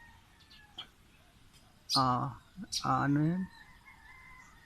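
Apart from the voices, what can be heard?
roosters crowing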